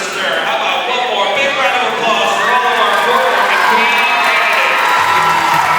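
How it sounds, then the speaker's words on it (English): Cheering, whooping crowd with applause at a high school court-warming ceremony during a men's basketball game, loud and steady throughout, with a voice audible within the din. "How about one more big round of applause for all of our court warming queen candidates?"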